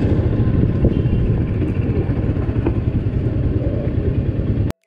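Royal Enfield Himalayan motorcycle engine held at about 4000 rpm, a loud, steady, dense mechanical drone with rapid pulsing that runs unbroken before cutting off abruptly at the very end.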